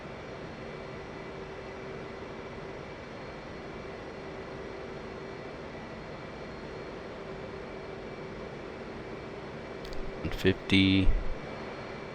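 F/A-18 jet engine in the DCS World flight game drones at a steady, moderate level with a constant whine as power eases back, and a voice speaks over it near the end.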